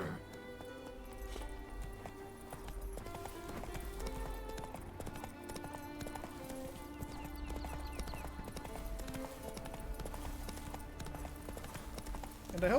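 Hooves of the horse Roach clip-clop steadily in Witcher 3 in Skellige, a continuous rhythmic trot with an occasional whinny, set against a layer of game music and ambience.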